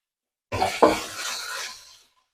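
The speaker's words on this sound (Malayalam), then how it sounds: "ഇതൊന്ന് നന്നായിട്ടൊന്ന് വഴറ്റിയെടുക്കാം" Ginger and garlic are sautéed and stirred in a pan for beef fry, with two close scraping knocks followed by a brief hissing sizzle that fades out.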